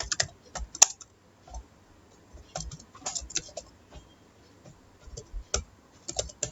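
Keys clatter on a computer keyboard as a Java program is typed out, coming in quick bursts and isolated taps separated by short pauses, close and fairly quiet with no voices.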